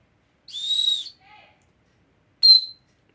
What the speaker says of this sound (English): There is a whistle.